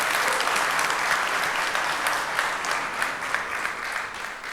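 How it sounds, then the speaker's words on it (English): Steady, loud audience applause fills the hall for the cast of the film 12th Fail at a panel discussion, a dense wash of many hands clapping continuously without letting up. "Huge round of applause, guys."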